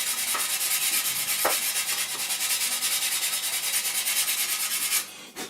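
Steady, raspy sanding strokes rub back and forth continuously over filler on a 1/32 scale plastic F-14D Tomcat model kit, close and fairly loud, with no talking, before stopping near the end.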